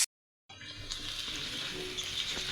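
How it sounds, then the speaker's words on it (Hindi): Potatoes sizzle and fry in hot oil in a pan for a curry, a steady bright crackle after a brief silent start, close and continuous with no talk. "इसमें हम आलू को डाल के आलू को भी फ्राई करेंगे"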